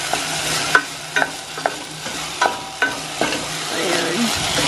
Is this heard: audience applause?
no